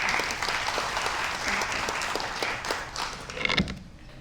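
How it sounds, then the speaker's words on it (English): A parish audience gives the guest presenters a round of applause. The clapping is moderately loud and steady, with a few knocks and shuffles, and it thins out toward the end. "So can we give them a round of applause?"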